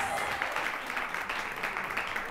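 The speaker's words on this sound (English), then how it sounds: "Y'all clap your hands." An audience at a high school choir performance claps in a steady, dense patter, somewhat distant and fairly quiet, continuous throughout without pause.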